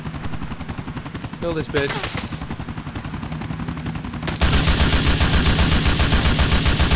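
Gunfire in GTA IV during a Cops 'n' Crooks match: a sparse shot or two early on, then a dense, continuous burst of rapid automatic fire from the middle of the clip to the end, with a voice talking over the shooting.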